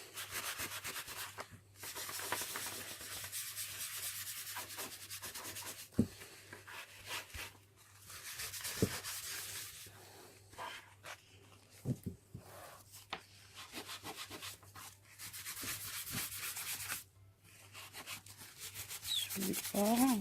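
Violet soft pastel being rubbed across paper with a paper towel, repeated close, quiet scratchy swishing strokes in uneven bursts with brief pauses between them.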